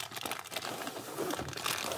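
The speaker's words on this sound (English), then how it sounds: "First thing we need to do is open it up and see what comes in the box." Packaging crinkles and rustles close up as a Klein Tools CL440 HVAC digital clamp meter is unboxed, a steady papery crumpling with no talking.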